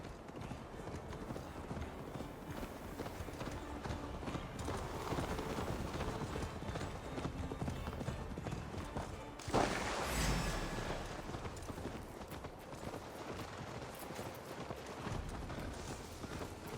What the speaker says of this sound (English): Your horse is slow, and her rider's drunk.